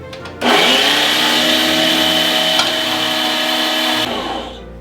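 An electric food chopper grinds a raw onion to clean out its bowl after mincing duck giblets, a steady loud whirring motor running continuously, then winding down near the end.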